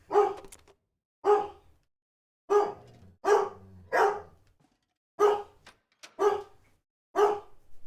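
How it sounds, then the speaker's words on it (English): A dog barks in repeated sharp bursts, about ten loud barks with short pauses between them, close by. "Is your dog? He is angry again."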